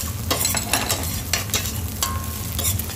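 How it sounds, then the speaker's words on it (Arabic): Whole coriander seeds toast with onion and garlic in a pan for butter chicken while being stirred. A steady close sizzle carries repeated scraping strokes, with no talking. "عشان احمصهم مع البصل والثوم اللي انا حطيته، تمام، ابتدي ان انا اقلب كده"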